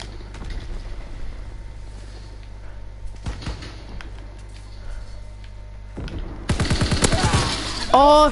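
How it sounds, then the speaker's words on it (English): Shotgun fire in a WWII Call of Duty game starts as scattered shots over a low hum, then becomes a loud, close, rapid volley near the end. "Oh, bloody shotgun from the back."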